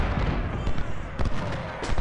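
Cannon fire in a Civil War battle game, heavy booming blasts rolling together at middling distance over a dense, noisy battlefield din.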